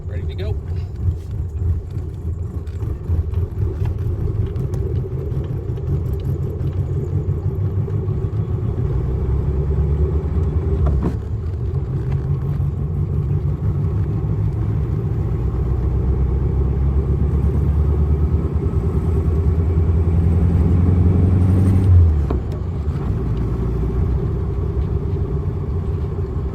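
A 1970 Volkswagen engine idles with a low, steady rumble, heard up close throughout, rising in pitch and swelling in loudness as it is revved briefly toward the end before settling back.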